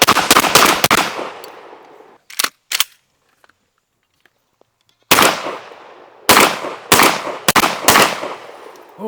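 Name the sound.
Sulun Arms SPAS-12 shotgun firing buckshot rounds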